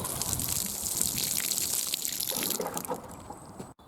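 Water pours and splashes from a watering can onto newly planted garlic in a garden bed, a steady hissing gush close by that tapers off at the end.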